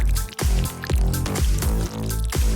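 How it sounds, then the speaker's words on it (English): Dark hot glue dripping during a DIY zombie craft build, heard as a rapid run of wet, bloopy drip sounds with falling pitch, about six loud close drops in quick rhythm. "Drip on some dark hot glue."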